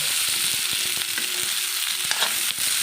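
Potatoes fry in a pan for a Tamil potato fry, a dense continuous sizzle with occasional soft stirring taps, close and steady.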